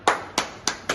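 Hand claps ring out at a speech: four sharp, close, evenly spaced claps in quick rhythm, alone without any voices.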